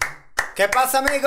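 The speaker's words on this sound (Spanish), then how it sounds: "Aquí empezamos aplaudiendo" A few sharp hand claps from people ring out close by, mixed in with cheerful spoken voices in a brief burst.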